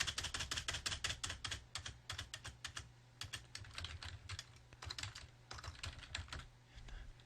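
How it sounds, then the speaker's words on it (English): Rapid typing on a computer keyboard, bursts of quick key clicks with brief pauses between runs, close and fairly quiet. "Now let's type in just some header links."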